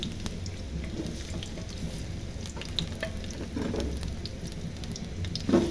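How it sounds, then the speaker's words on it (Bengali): Chopped onions with minced garlic fry in hot oil for a Bangladeshi egg curry, a close, continuous crackling sizzle with scattered pops and occasional stirring scrapes. "পেঁয়াজগুলোকে আমি লাল লাল করে ভেজে নিব 2 মিনিট।"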